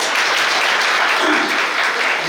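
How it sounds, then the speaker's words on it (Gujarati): Audience applause at a community program in Gujarati, a steady dense wash of clapping sustained loud and close throughout, with no voices over it. "તો એના માટે બરાબર તાળીઓ પાડો."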